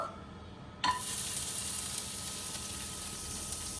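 Butter hits an empty pan and starts sizzling abruptly after a quiet moment, settling into a steady close hiss that continues to the end.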